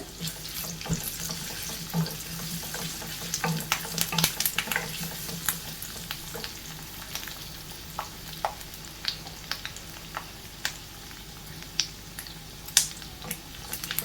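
Curry leaves crackling in hot oil for a kovakka pickle, a long run of sharp pops and spits scattered irregularly over a steady sizzle.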